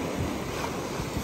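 Sea waves wash and rumble as a steady broadband roar, close and continuous with no breaks, a gusty wind-like hiss mixed through the surf.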